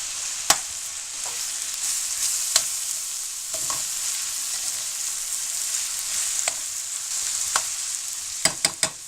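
Ground meat for lasagna fries in a pan with a steady, bright sizzle, broken by occasional sharp scrapes and knocks as it is stirred.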